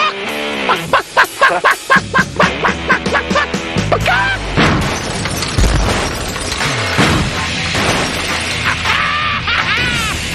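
A sudden smashing crash as a chicken hits a car windshield at 68 miles per hour cuts through rhythmic squawking honks and loud, excited voices, with noisy commotion continuing afterward.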